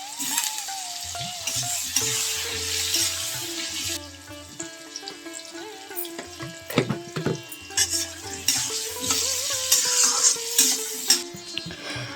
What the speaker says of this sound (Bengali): সেই আলুটা আমি একটু লাল লাল করে ভেজে নেব